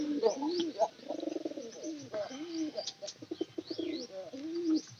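Pigeons coo inside a coop in soft rolling bursts with scattered chirps, near and moderately quiet, while a person speaks intermittently over them.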